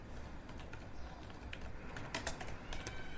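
Quiet, quick keystrokes on an HP laptop keyboard patter in an irregular run of light clicks, close and soft throughout.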